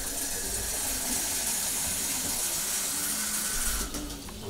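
Water gushes steadily from a tap into a container as it is filled up to two liters for racing pigeons, a continuous close hissing rush that eases slightly near the end.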